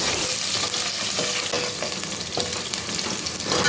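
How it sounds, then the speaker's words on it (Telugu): Onions frying in a pan for a Telugu long bean curry, a steady loud close sizzle with occasional stirring scrapes, no talk. "ఉల్లిపాయలు ఇంత ఫ్రై అయిన వరకు సరిపోతుంది"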